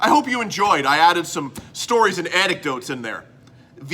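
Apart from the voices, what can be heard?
None of the usual background noises is heard.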